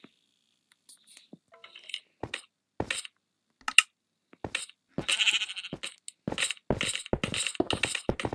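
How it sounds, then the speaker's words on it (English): Sheep bleating in the Minecraft survival game, a series of short separate bleats and clicky game sounds that grow busier and louder toward the end, with no talking. "I heard sheep, so it must be daytime now."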